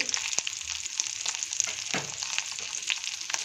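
Garlic, dried red chillies, green chillies and a large piece of ginger fry in hot oil for butter paneer masala, a steady close sizzle with crackling pops and occasional stirring scrapes, without speech.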